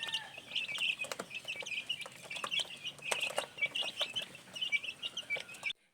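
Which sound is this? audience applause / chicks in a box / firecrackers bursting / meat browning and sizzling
chicks in a box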